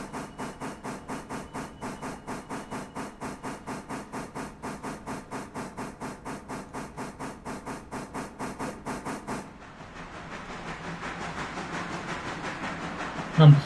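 Train moving on tracks in the video game Railroader, a steady rhythmic chuffing beat of even pulses that gives way to a softer, broader rumble and hiss, ending with a short thump.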